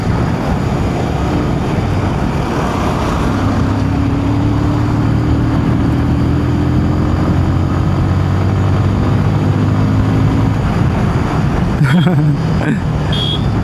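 Bajaj Pulsar 180 motorcycle engine running while riding, a steady droning hum with rising tones as it accelerates, wind noise throughout and a voice talking over it.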